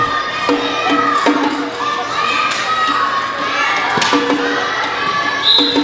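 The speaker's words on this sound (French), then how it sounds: "on a de la misère à s'entendre entre l'orgue et la foule" A dense crowd shouts and cheers at a basketball tournament game while organ tones ring through the arena, with scattered ball thumps and bursts of noise throughout and no clear talk.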